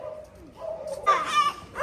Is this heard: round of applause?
no